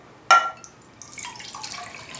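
Cold water pours into an Esbit aluminium solid-fuel cook pot, starting with a sharp splash and continuing as a light, uneven trickle and gurgle, close by and heard on its own.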